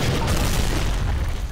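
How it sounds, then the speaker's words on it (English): A grenade explosion in the video game Garry's Mod gives a loud, dense, sustained boom that fills the whole moment, close and overpowering, with no talk over it. "You throw a grenade."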